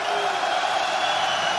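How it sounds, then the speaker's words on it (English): A large arena crowd roars throughout a PFL mixed martial arts fight in Paris, a dense, loud, sustained wall of cheering with no breaks. "The volume of this crowd is awesome."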